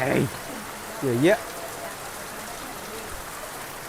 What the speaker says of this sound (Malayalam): പെരും മഴ